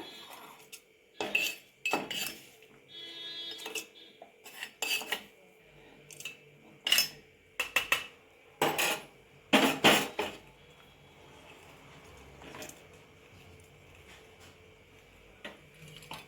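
A metal spoon scraping and clanking against a pot while tempering is mixed into dal khichdi rice, a series of sharp, close, irregular clinks and scrapes heard alone.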